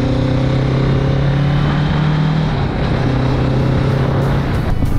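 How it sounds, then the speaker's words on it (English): A Kawasaki Z650 RS motorcycle engine revs up as the throttle opens on the road, a loud, throaty, steady drone rising in pitch, with wind rush over it. "you can hear that throaty bellowing sound as you open up the throttle"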